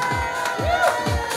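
A crowd cheers and shouts in rising whoops at a Dutch school trophy presentation after the Halve van Haarlem race, loud and continuous over the short moment, with no clear clapping standing out.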